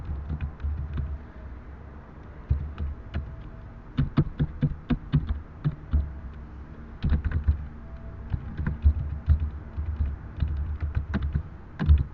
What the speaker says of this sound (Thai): ดับเบิลคลิกที่ text นะคะพิมพ์ชื่อผู้จัดทำค่ะ